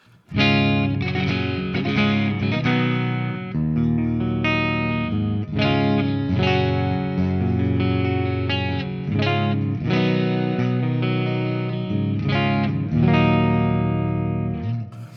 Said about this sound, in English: Let's first listen to the absolute clean tone, nothing set up from the choruses.